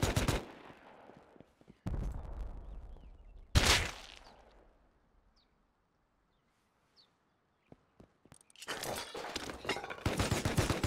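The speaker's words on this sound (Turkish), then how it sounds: "Evin üstünden vurdu. Alttan vurdu." Gunfire during a base raid in Rust: several loud bursts separated by quiet gaps, one sharp heavy shot in the middle, then a dense run of rapid shots near the end, with no voices.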